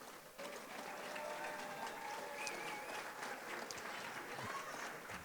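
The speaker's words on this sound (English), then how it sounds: "Let's give these students a big round of applause." A school board meeting audience claps for graduating students, a soft, steady patter of many hands heard at a distance and sustained for several seconds at low volume.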